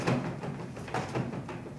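Two straight punch strikes from martial arts training, landing as dull impacts with a noticeable pause between them, fairly quiet in a room.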